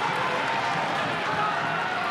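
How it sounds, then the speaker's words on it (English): A loud crowd roars at a college wrestling dual between Oklahoma State and NC State, a dense, steady wash of cheering and noise that holds for the full two seconds. "Crowd as loud as it's been without any scoring."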